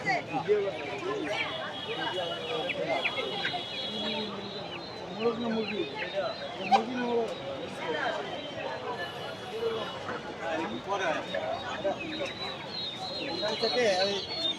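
Young chickens cluck and chirp from cages at the busy Tongi rural poultry market, scattered calls mixed into a crowded hum, with people talking throughout.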